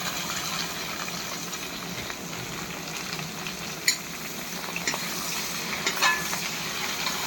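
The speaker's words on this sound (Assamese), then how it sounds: "এতিয়া চব্জিটো মই হিলাই দি আছোঁ।" Pointed gourd and potato curry is stirred in a hot pan, with a steady low sizzle, soft scraping, and a few sharp clinks of the spoon against the pan.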